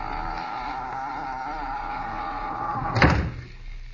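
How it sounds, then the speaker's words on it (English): A boathouse door on an estate is swung shut with one solid slam near the end, after a steady hum of background noise. "Shut the door."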